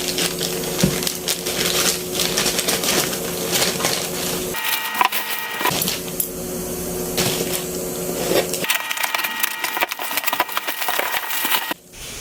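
A package of drinking glasses ordered online is opened nearby, with rustling, crinkling and tearing of wrapping and cardboard in bursts, some brief pauses, and a clunk near the end; no one speaks.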